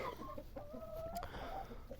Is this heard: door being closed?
no